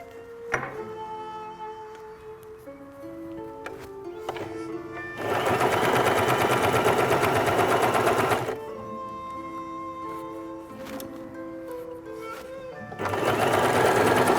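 Sewing machine stitching Chechen-style patchwork quilt pieces, with quiet handling and pauses broken by two loud, fast, steady runs of close mechanical stitching.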